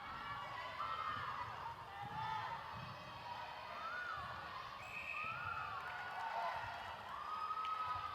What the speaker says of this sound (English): the crowd are still enjoying themselves and cheering for their teams